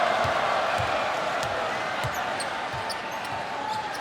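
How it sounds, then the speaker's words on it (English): Arena crowd at a China versus Philippines basketball final in Changsha, a dense continuous roar of many voices with faint whistles and rhythmic thumping like drums or ball bounces running steadily throughout. "Just listen to the crowd in Changsha."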